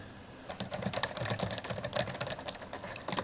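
Fingers type quickly on a computer keyboard, a dense run of close, faint key clicks with no talking.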